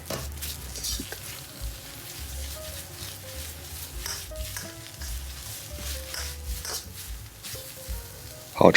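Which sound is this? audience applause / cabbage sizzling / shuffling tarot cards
cabbage sizzling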